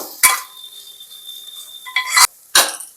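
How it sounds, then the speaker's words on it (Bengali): A spoon stirs mutton curry with grated ginger and slit green chillies in a pan, producing sharp clinks and scrapes at intervals against a steady faint tone. "আবার একটু নাড়িয়ে নেব।"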